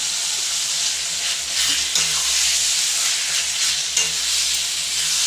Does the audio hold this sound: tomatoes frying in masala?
yes